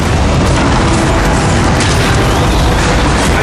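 A dense, loud roar of blasts and rumbling debris in Call of Duty: Modern Warfare 3, as the Eiffel Tower breaks and falls, fills the whole stretch, continuous and booming with no voices.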